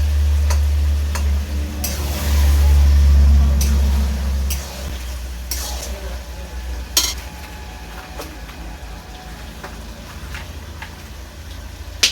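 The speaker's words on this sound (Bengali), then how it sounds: "এবার এটা আমি এইভাবে আস্তে আস্তে কষাতে থাকবো এবং জলটাকে পুরো শুকিয়ে নেবো" Fish head and taro greens stir-fried in a pan while the liquid cooks off: a soft sizzle with occasional sharp spatula clinks against the pan, over a loud low hum that eases after a few seconds.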